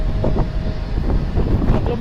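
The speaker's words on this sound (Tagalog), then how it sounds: "ang lakas ng hangin" Strong wind blowing over a large ship on rough, choppy seas, a loud continuous roar with gusting swells, while a voice talks intermittently through it.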